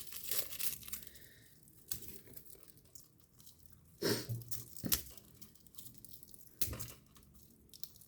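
A plastic package of bead chain for bracelet making is crinkled and torn open close by, giving several bursts of rustling and ripping with quiet pauses in between.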